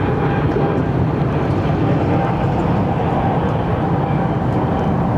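A Boeing airliner departs London Heathrow, giving a continuous, loud, rumbling jet roar that holds steady without a break, heard from a rooftop with no talking.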